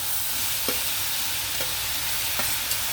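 Beans tipped into tomatoes frying in a pan and stirred: a steady hiss of sizzling with three or four soft scraping stirs at spaced intervals, close and moderately loud, no talking.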